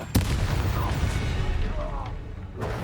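Fiery spell blasts and impacts from combat in the video game Hogwarts Legacy, a dense rolling barrage of booms and crackles across the whole stretch, loud and close, with a voice speaking over the fight.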